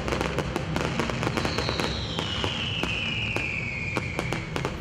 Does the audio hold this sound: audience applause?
no